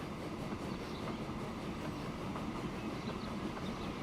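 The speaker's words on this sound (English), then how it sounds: "What a lovely train that is." A steam train running in the Transport Fever video game gives a continuous low rumble with faint rhythmic wheel clatter, steady and moderately quiet throughout.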